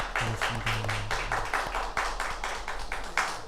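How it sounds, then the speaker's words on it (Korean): A church congregation claps in thanks for its choir during a Sunday Lenten service, a dense, steady patter of many hands filling the room, with a low hum beneath. "우리 성가대원들에게 다시 한번 우리 감사의 박수를 하겠습니다"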